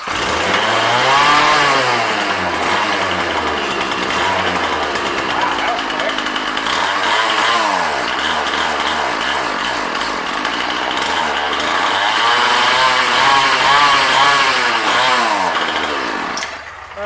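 A free junk Craftsman weed eater, a small two-stroke engine running too lean, revs loudly and steadily for the whole stretch, its pitch rising and falling in waves as the throttle is worked, close by and alone.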